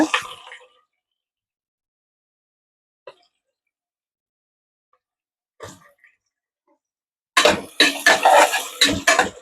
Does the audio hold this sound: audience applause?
no